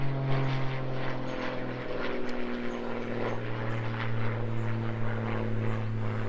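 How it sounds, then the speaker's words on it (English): A propeller aeroplane passes over a golf course at Royal Riddlesden Golf Club, a steady droning engine hum that holds evenly through the whole stretch with no talk over it. "Sorry, aeroplane flying over."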